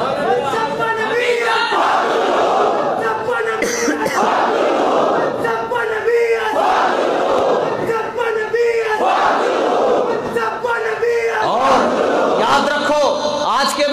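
A large crowd at a religious gathering chants a slogan in loud, rhythmic unison, the call and response repeating in surges throughout.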